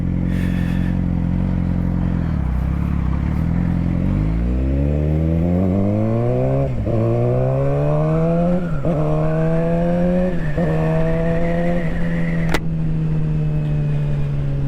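A motorcycle ridden hard on a road, its engine loud and close, climbing steadily through the revs with several gear changes that each drop the pitch briefly before it rises again, with rushing wind underneath and no talking.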